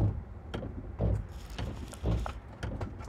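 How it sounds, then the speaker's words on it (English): Dry windshield wipers scrape across glass in a regular back-and-forth rhythm, about once per second, over the low hum of a moving car. "that noise you hear, it's my windshield wipers"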